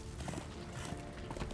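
Horse hooves clip-clop at a steady rhythm in the video game Darksiders 2, faint and blended into a dense game soundscape.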